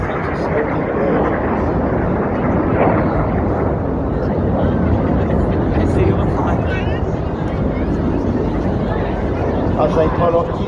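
Red Arrows jets at an armed forces day air display in Scarborough, a loud, continuous roar of jet engines filling the whole stretch with steady broadband rumble and no pauses.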